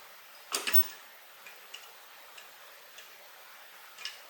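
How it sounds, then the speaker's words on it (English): A sewing machine makes a single short back stitch through a leather hip bag: a sharp mechanical clack near the start, then faint, evenly spaced ticks in a quiet room. "I am going to do just a tiny little back stitch here, just like one stitch."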